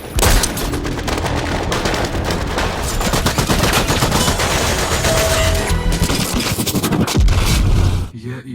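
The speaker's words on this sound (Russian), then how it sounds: "Откуда стреляют, Серега?" Heavy gunfire in a science-fiction film battle scene, dense rapid bursts and machine-gun volleys crackling loudly and almost without pause, with a deeper boom near the end.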